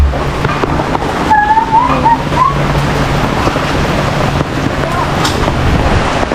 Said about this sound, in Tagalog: Lakas ng bagyo guys.